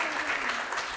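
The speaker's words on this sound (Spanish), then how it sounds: "Give a round of a applause." A congregation at a church service claps in a brief, steady, dense wash of applause that sounds full and continuous.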